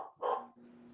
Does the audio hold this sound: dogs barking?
yes